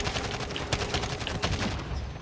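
Rapid automatic gunfire in Call of Duty Modern Warfare, a loud, dense stream of shots from a heavily recoiling rifle with steady repeated cracks for about two seconds.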